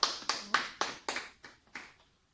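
A small group claps in seven sharp, evenly spaced bursts at a conference talk on body language, each burst fading before the next, close and alone with no voices.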